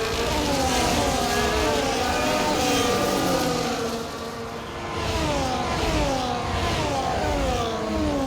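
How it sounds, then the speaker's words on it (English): A Ferrari Formula 1 car from the EA Sports F1 game races at the Baku street circuit in Azerbaijan. Its high-pitched engine howls steadily and loudly, and its pitch rises and falls as it shifts gears through the corners. "right now we are racing with the Ferrari"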